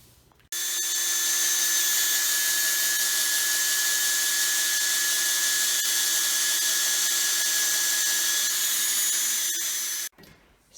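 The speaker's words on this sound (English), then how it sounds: "now I'm ready to screw into my holes." A power drill running continuously while driving screws into kitchen cabinet hardware through a jig, a steady high-pitched whine at full speed lasting nearly ten seconds, close and loud, then stopping abruptly.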